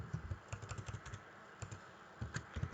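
Quick clattering keystrokes on a computer keyboard come in two short bursts with a brief pause between them, close and fairly quiet, with no one talking.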